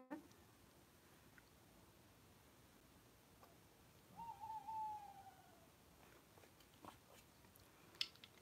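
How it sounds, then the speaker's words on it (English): An owl hoots close behind in a quiet outdoor night setting, one clear drawn-out hoot in the middle and a faint short call near the end, over low background hiss. "you will hear the owl because it's literally just behind me"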